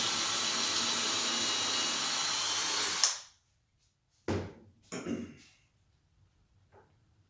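A power drill whirs loudly and steadily for about three seconds while drilling holes in a wood board, then stops abruptly, followed by a few short scraping knocks.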